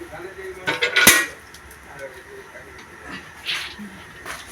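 Pots and cutlery clatter in a home kitchen as chana dal goes on to cook in a kadai with water, a sharp metallic clank standing out among lighter knocks and scrapes.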